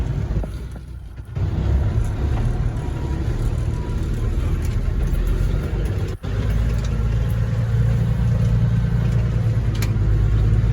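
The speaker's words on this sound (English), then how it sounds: "Man, I love driving this truck." Deep, loud engine rumble of a Peterbilt 359 truck moving slowly a short distance, a continuous low drone with a brief cutout partway through and wind buffeting the microphone.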